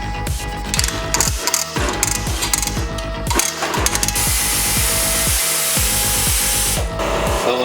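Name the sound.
ratchet loosening bolts on Jaguar XJ40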